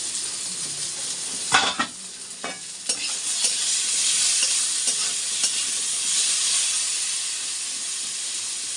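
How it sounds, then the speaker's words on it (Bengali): Potatoes frying in a pan make a steady, loud sizzle and hiss, with a few sharp scrapes and clatters from stirring early on. "আলুটা দেখি ভাজা হয়েছে কিনা"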